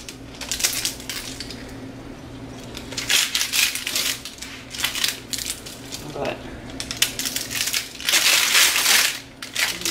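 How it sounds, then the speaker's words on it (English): A pizza cutter rolls through a keto chicken-based pizza crust in repeated crunchy, crackling passes, several strokes of loud scraping and crushing with brief pauses between them. "And I got my cutter. So let's cut into it."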